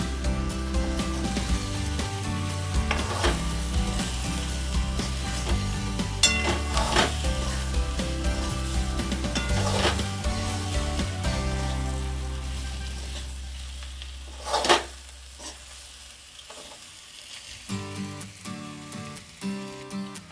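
Egg masala sizzling and being stirred in a pan, with a soft, steady frying hiss and scraping over background music, and a sharp utensil clatter near the end.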